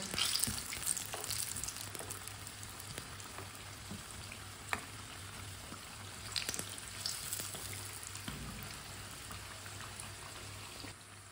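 Chicken tikki patties fry in a pan with a steady, close crackling sizzle and scattered sharp pops over its whole length, holding an even level with no speech.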